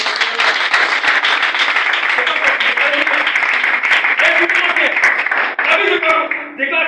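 A church congregation claps and applauds steadily to acclaim God during a service, dense and loud throughout, with voices and cheering mixed in.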